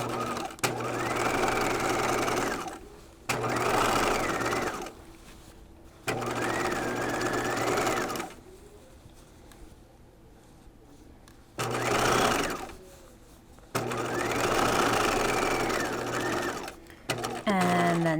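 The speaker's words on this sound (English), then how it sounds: "you can do a row of stitching about 1/8 of an inch from your first line of stitching" A sewing machine stitching a second seam row on a jacket runs in bursts of steady mechanical whirring, several runs of two to three seconds separated by pauses, close and loud.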